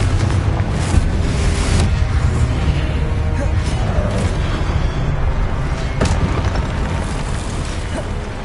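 Fiery explosion spell cast in the Hogwarts Legacy video game, a dense, loud rumbling boom and whoosh sustained across the whole stretch with scattered bursts and pops, with game music and effects layered underneath.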